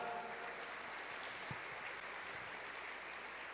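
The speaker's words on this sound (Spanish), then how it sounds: "démosle un aplauso al Señor por su palabra" Church congregation applauding after a scripture reading during a worship service, a faint, steady wash of clapping that stays even throughout, with no voices on top.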